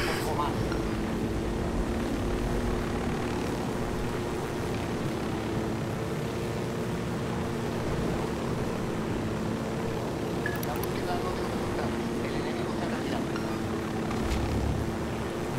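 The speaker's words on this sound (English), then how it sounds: "So this helicopter is not... It's not as easy as you think it would be to fly this thing." A helicopter in the video game Ghost Recon Wildlands drones steadily with a continuous rotor and engine hum throughout, loud and unbroken.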